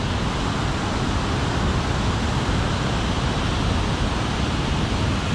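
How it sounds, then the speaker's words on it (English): Heavy rain-swollen waterfall in the Louth Conservation Area roaring steadily and loudly throughout, a dense, unbroken wash of rushing water close by with no voices. "you can definitely hear there's lots of water going over"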